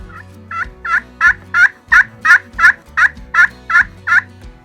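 Rhythmic yelping from a friction pot call imitating a wild turkey, about a dozen evenly spaced, loud notes played close up with nobody speaking.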